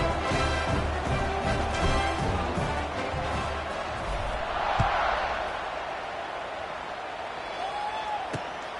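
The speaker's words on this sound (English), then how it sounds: "They're set to kick it off, and this crowd now ready to get behind them." Football stadium crowd at a West Virginia game around kickoff: a steady, dense roar of many voices fills the air, with a few sharp thumps standing out midway and near the end.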